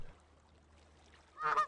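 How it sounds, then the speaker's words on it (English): A goose gives one short, loud honk at the very end in the video game Thirty Flights of Loving, after a quiet stretch of faint background hum. "It's just a bunch of geese here."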